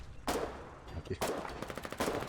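Bursts of gunfire from frontline fighting in the war game Foxhole, several broadband volleys with rapid automatic rattles, close and loud against a steady background din.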